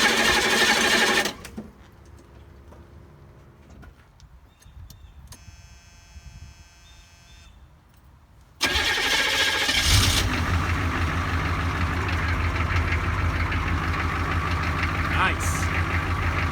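Old diesel engine on a rescued piece of old iron: a brief burst, then a quiet stretch with a faint electronic beeping, before the engine catches and settles into a loud, steady running rumble.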